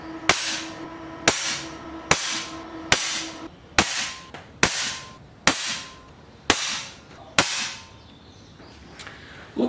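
A .22 air rifle firing pellets at maximum power: a series of about ten sharp, loud cracks at roughly one-second intervals, each with a short ringing decay, with no talking.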